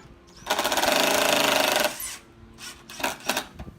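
A power drill drives a screw into Hardiplank fiber-cement siding in one loud, steady whirring burst of about a second and a half, close by. Shorter bumps and knocks follow.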